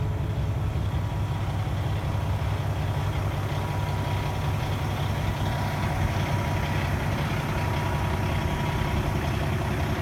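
A 2015 Kenworth T680 truck idles with a steady, loud low diesel rumble that holds evenly throughout.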